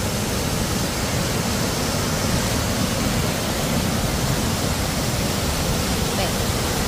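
Anthurium Falls in Famy, Laguna: a steady, dense rush of falling water that fills the whole clip at even loudness, loud and close, with no break or change.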